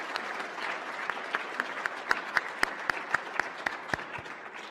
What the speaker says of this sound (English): please join me in a warm round of applause for those who made this possible